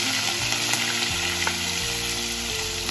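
Two medium finely chopped onions fry in a pan for a South Indian egg masala curry, giving a steady, loud sizzle with faint stirring scrapes and no voices.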